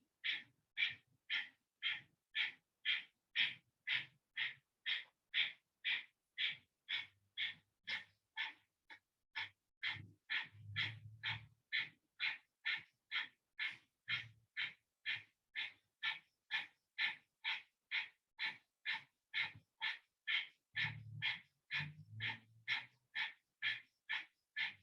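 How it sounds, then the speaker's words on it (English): Rapid, rhythmic breath-of-fire breathing from kundalini yoga, made up of dozens of sharp, evenly spaced nasal exhalations pulsing steadily for the whole stretch, close and clear, with brief low murmurs underneath at two points. "we're going to do a minute of breath of fire"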